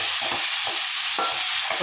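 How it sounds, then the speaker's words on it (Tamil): Drumsticks stir and sauté in hot oil in a pan, giving a loud steady sizzle with repeated close scraping strokes of the spoon, with no talk. "முருங்கைக்காயை நல்லா வணக்கணுங்க. இந்த மாதிரி எண்ணெயில் நல்லா போட்டு வணக்கி விட்டுறணுங்க."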